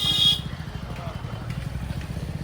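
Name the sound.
Yamaha MT-15 motorcycle engine running without exhaust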